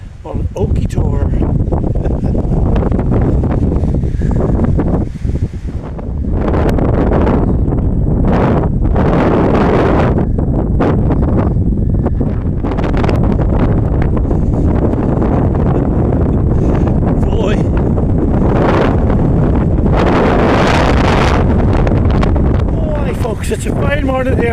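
Strong wind buffets the microphone on Oakey Tor, a rocky hilltop on Dartmoor in Devon, roaring in loud, continuous gusts that swell and ease for the whole stretch, with a voice faintly talking underneath.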